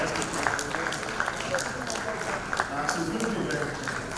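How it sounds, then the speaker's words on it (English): Audience applause at a young founders' forum: steady, moderately distant clapping from a crowd that continues throughout, with a voice talking over it. "Let's keep clapping, let's keep clapping."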